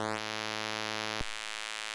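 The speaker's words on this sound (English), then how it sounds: "Here you can achieve classic PWM sounds." A buzzy, sustained pulse width modulation tone from a Shakmat Ballista Blast synthesizer, with a rising sweep at the start, holds steadily, then shifts timbre abruptly about halfway through.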